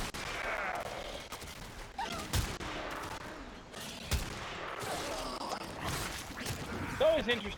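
Rapid bursts of gunfire crackle through a Warframe firefight against low-level enemies, sharp repeated shots and bangs scattered across the scene amid whooshes and other game effects.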